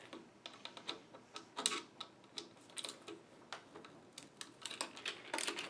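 Stock screws are backed out of a Mosin Nagant rifle fitted with an Archangel AA9130 stock, giving faint, close, irregular small clicks and ticks that come in a quick, uneven series.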